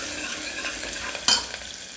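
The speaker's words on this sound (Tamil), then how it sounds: "நல்லா வதங்கட்டும்." Onion, crushed garlic and green chili sautéing in a pan make a dense continuous sizzle, with one brief louder clatter of stirring midway and no talking.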